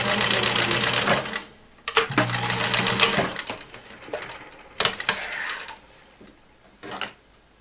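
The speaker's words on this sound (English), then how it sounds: "pick up your press foot, pivot with the needle down inside, and sew it right in" Sewing machine stitching a seam on a peacock costume made from a prom dress, several fast rattling bursts separated by short pauses, close and loud.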